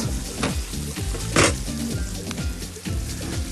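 Tomato going into a hot frying pan, giving a steady loud sizzle with stirring and scraping, over faint background music.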